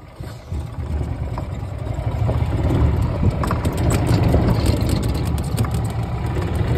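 Electric golf cart fitted with a tractor battery, driving along with a loose windshield rattling, giving a steady, fairly loud broadband engine-like rumble and clatter that continues throughout with no talking.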